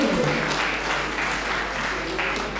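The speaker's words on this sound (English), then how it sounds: "another round of applause, let's get this, warm your hands up here" Audience applauding at a live gymnasium event, a steady dense wash of clapping that fills the whole stretch at moderate level, with some voices mixed in.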